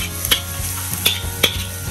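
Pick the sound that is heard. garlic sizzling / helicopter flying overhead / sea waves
garlic sizzling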